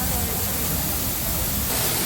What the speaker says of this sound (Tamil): அப்படியே அழகாக ஒரு இது மாதிரி தண்ணி வருது.